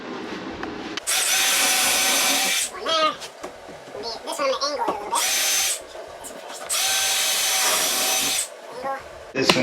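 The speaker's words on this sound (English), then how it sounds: "So I'm just gonna go through pre-drill first." A power drill pre-drills through a cabinet into wall studs in three loud, sustained whining bursts up close, with short pauses between them where a person speaks.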